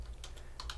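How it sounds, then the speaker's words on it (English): A few quick keystrokes clatter on a computer keyboard, close and light, in a brief burst of three or four taps with no voice. "So I guess I just have to type it."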